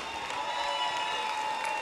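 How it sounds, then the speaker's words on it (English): A theatre audience applauds steadily as a woman, Ruth Maughan, is welcomed onto the stage, a dense, even wash of clapping from a crowd with no break and no single voice standing out. "a big round of applause for the lady that's been behind all of that"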